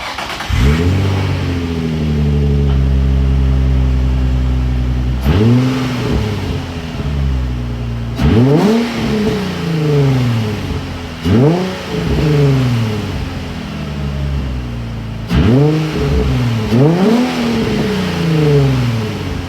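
A Nissan 350Z engine with a catalytic converter delete and aftermarket MagnaFlow muffler idles with a deep exhaust burble, then revs up repeatedly in loud bursts, each swelling and falling back to idle, close by.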